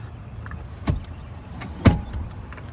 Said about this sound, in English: to scoot the second row forward and back, you just pull up right here.